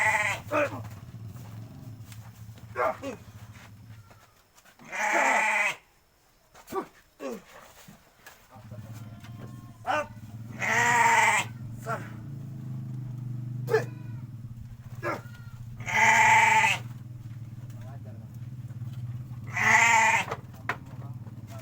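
Several loud goat bleats come in separate bursts, with a low steady hum and scattered noise between them.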